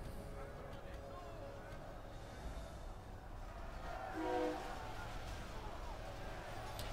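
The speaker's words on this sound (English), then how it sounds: "Crikey, there's a train going past my house." A train passes close by a house, producing a steady, muffled rumble that swells slightly near the middle and stays fairly faint, with a voice talking over it.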